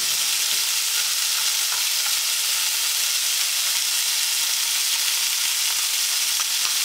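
Pork sizzles steadily in a hot pan as it is flipped and stirred, a constant dense hiss of frying fat with faint scraping, close and even throughout with no voices.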